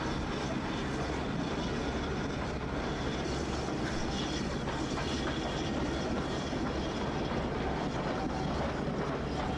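A video game train rumbles past in Train Simulator with steady rhythmic clatter on the rails, continuous and fairly loud throughout, with no voices.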